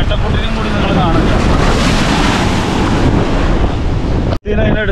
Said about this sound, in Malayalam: ഇവിടെ നല്ല തിരയാണ്